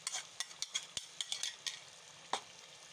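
A spoon scrapes and clinks through cream being stirred into white chicken kadai in a pan, giving quiet, irregular taps over a soft, faint sizzle.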